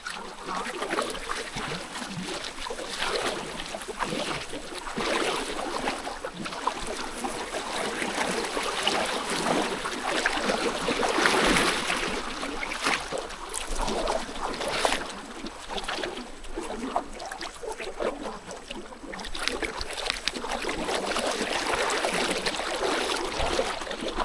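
Strong wind roars steadily across a river in the Philippines, a broad continuous rush with gusting surges, no voices present.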